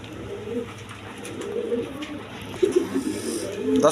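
A pair of Rajgolla pigeons at a breeding loft, cooing and shuffling close by in soft, uneven bursts, with a louder stir near the end.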